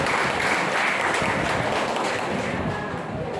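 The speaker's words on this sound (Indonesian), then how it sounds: "Tepuk tangan buat kita." Loud, full audience applause at a cross-generation high school alumni reunion gathering, a thick continuous roar of many clapping hands close by that eases slightly toward the end.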